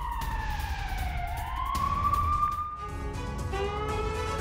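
Air raid siren wailing in Kyiv during the war, a loud continuous tone sliding down and then rising steadily before levelling and wavering, sounding alone with no voices.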